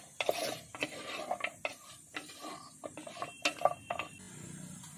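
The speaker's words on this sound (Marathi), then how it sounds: "पुन्हा असं 1 मिनिट असं परतून घेऊया." Goat trotters are stirred and sautéed in a pan, with quiet clinks and scrapes of a utensil against metal repeating unevenly over a faint sizzle.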